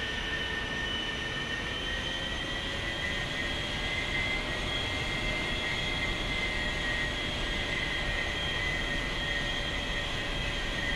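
An A-4E jet in a flight simulator game taxis with a steady, even engine whine and broadband rumble, high tones holding constant and a faint rising pitch early on, with no voices.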